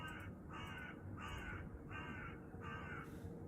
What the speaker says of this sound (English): It's the crows. The crows are back.